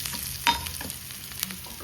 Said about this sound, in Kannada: ಈ ಒಗ್ಗರಣೆಯನ್ನು